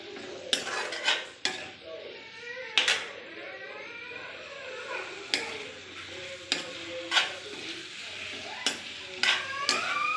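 A spoon stirs kohlrabi and potatoes in a cooking pan for a fish curry, with scattered metallic scrapes and knocks over a faint sizzle.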